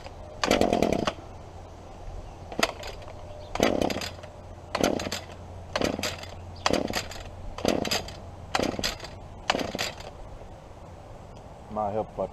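A small gas lawn-care engine is pull-started with the choke on: about eight sharp rope-pull bursts come at roughly one-second intervals, close and loud, with quiet gaps between.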